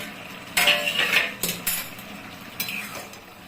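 A lid is lifted off a cooking pot of simmering curry with fritters, giving a few sharp metallic clanks and scrapes, close and clear with no talking.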